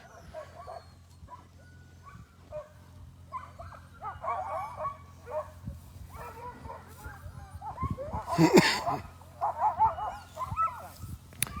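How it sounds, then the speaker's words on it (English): A crowd of excited sled dogs barking, yipping and whining together at a sled dog race, building to a louder chorus, with people talking faintly in the background. "sounds like a sled dog party"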